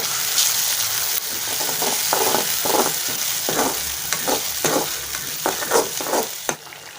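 A paste of ground pepper, cumin and lentils sizzles and fries in oil for a Tamil curry, a steady hiss broken by repeated stirring scrapes at a fairly close, even level, with no talking.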